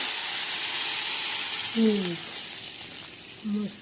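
Hot oil sizzles as it is poured over turmeric and asafoetida for a homemade turmeric pickle: a steady, close frying hiss throughout, with a couple of brief tonal sounds.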